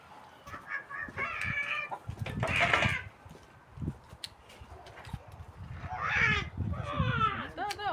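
Chickens cluck and squawk nearby in short bursts, with scattered clucks and rustling, and a person talks quietly over the birds.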